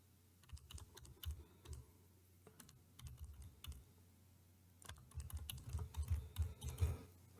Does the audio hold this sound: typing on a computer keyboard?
yes